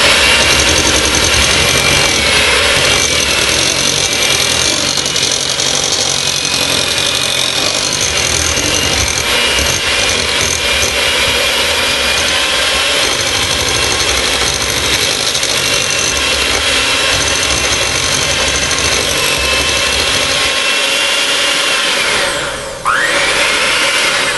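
Electric mixer beating pumpkin roll batter, a steady loud motor whir that runs continuously and close up, then cuts out briefly near the end.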